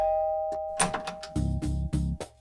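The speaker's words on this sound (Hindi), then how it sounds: "चल के घंटी बजाते हैं" A doorbell rings with a chime, then several loud, evenly spaced electronic buzzes or rings follow in quick succession, close by, with no talking.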